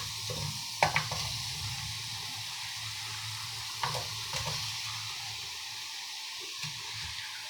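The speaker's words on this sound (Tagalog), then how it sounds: "Kalat natin para at ilalagay na rin natin ang ating sibuyas." Onions sautéing in a pan with ginger for paksiw na hasa hasa, a steady soft sizzle throughout with a few sharp clinks of a utensil stirring against the pan, close and fairly quiet.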